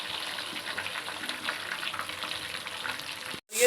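Tomato paste frying in a pan with ginger, garlic and red chilli, a close, steady crackling sizzle that cuts off abruptly near the end.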